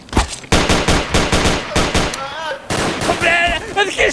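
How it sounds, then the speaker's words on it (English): Rapid automatic gunfire in a video game, loud and close in steady bursts of repeated shots, while a voice speaks briefly and other game sounds come in partway through. "And he's shooting me!"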